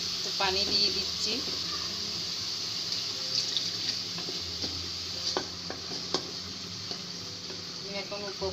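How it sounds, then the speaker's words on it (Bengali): Water is poured into a pot of beef tongue cooking with bay leaves, cinnamon and cardamom, giving a steady hiss and splash with occasional light clinks of utensils. "পানি দিয়ে দিচ্ছি।"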